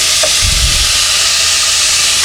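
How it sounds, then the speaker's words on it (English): Sausage and ground beef browning in a pan give off a steady, loud sizzling hiss that runs through the whole moment, with a brief low thump near the start and no talking. "we'll brown the sausage and ground beef first"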